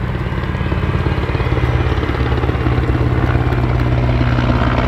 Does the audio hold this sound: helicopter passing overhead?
yes